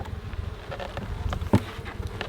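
Honey bees buzz close by in short, uneven drones around animals' water bowls during a drought, with a brief louder pass midway, over a faint outdoor background.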